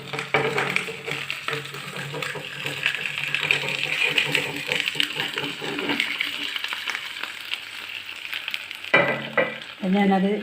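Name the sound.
flipped dish frying in pan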